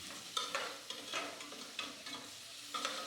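A spoon stirs pumpkin soup in a pot with boiled pumpkin, onion and garlic, giving about half a dozen quiet scraping strokes over a soft sizzle, with no talking.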